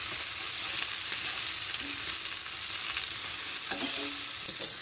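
Spinach sizzles and crackles in a non-stick pan for scrambled eggs with parma ham, a steady bright frying hiss with faint stirring scrapes, close and alone.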